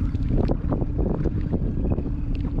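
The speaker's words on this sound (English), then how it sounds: "I know the wind is picking up." Strong offshore wind on a fishing boat buffets the microphone in a steady low roar with gusty surges throughout, no voices.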